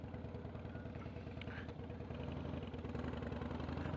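A motorcycle engine runs steadily at a low, even idle-like pulse with a brief clatter in the middle, heard close and fairly quiet throughout, with no one speaking.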